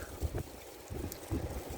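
Cold, gusty wind buffets an outdoor microphone in low rumbling surges that rise and fall, with no talking.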